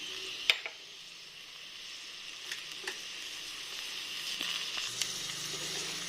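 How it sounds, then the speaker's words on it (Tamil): Onions, green chilies and curry leaves sauté in hot oil in a kadai, a steady soft sizzle with a few sharp ladle clinks against the pan. "இது மூணையும் போட்டு நல்லா வதக்கி எடுத்துக்கோங்க"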